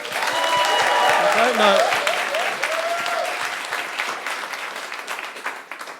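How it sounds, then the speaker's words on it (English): A live podcast audience at a film quiz breaks into loud applause that swells for a couple of seconds and then tapers off, with a person talking over the tail end. "Why don't I get a clap when I do the scores?"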